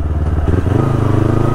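A motorcycle engine runs close by, a steady, loud low throb that gets slightly stronger and more pulsing partway through, heard alone without talk.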